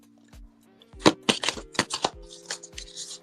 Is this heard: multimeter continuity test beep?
no